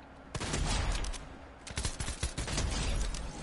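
Gunfire crackles in a shooter video game: rapid clusters of shots and bursts at moderate loudness, briefly easing before a second volley.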